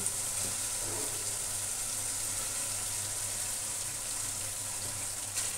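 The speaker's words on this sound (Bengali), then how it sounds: "এখন ম্যারিনেট করা চিকেনটা দিয়ে দিচ্ছি।" Chicken marinated in yogurt and turmeric frying in a spice masala gives a steady, even sizzle and hiss that holds throughout without pause.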